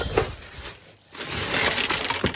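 A glass item shatters inside a bag at a yard sale, giving brief crunchy clinks and rattling shards with a louder burst of breaking near the end, close and fairly loud, with no talking.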